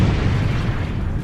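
An ice castle in the Minecraft video game explodes, giving a dense, loud, sustained boom with a heavy low rumble that fills the whole moment without any break.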